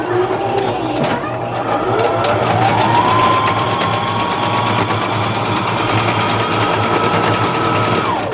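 A sewing machine runs steadily, stitching back and forth across elastic on a ribbon-trimmed tutu, a continuous close mechanical whir with a rising motor tone lasting the whole stretch.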